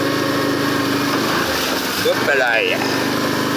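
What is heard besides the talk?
ATV quad engine running during a ride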